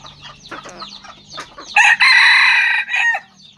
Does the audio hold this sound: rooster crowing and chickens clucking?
yes